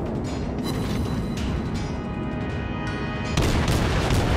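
Naval guns fire in World of Warships from the light cruiser Kolberg, heavy booming blasts with a mechanical rumble and a louder salvo near the end, with no voices.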